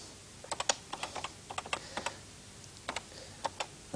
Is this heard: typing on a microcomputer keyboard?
yes